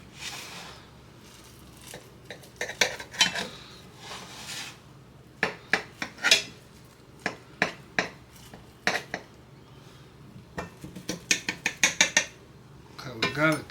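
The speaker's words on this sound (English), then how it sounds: "So I'm going to cut that into sections." Knife or spatula clinking and scraping against a pan while a potato and egg bake is cut into sections, a run of sharp close metallic taps and scrapes in irregular bursts.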